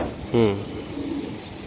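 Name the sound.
racing pigeon cooing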